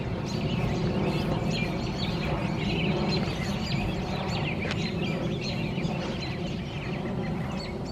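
A dense chorus of many birds calls and chirps constantly from trees in a residential neighborhood. The overlapping calls sound fairly close and run without a break.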